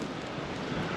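Blizzard wind blowing snow off a rooftop, a dense, steady rushing roar with a broad noisy texture and gusty buffeting on the microphone, with no voice during this brief moment.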